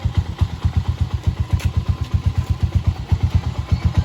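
A Motorstar 125 motorcycle that is not charging runs under repair, its engine putting out a steady, rapid low thumping pulse with mechanical clatter, loud and close, with no voices.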